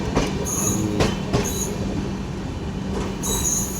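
Indian Railways train rolling slowly past a level-crossing station on a hot day, with steady heavy rumble of wagons and repeated high metallic wheel squeals rising and fading, close and loud, no voices.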